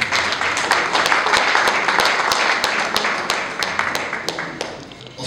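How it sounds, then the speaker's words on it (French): Audience applause at a book launch event, lively dense clapping close by with distinct sharp individual claps standing out, tapering slightly toward the end. "Nous applaudissons."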